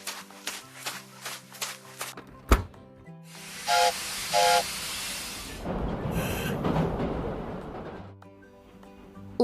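Cartoon steam locomotive sounds in a kids' construction-vehicle animation: a run of short chuffs and a sharp clank, then long bursts of hissing steam broken by two short whistle-like toots, loud and close, with no talking.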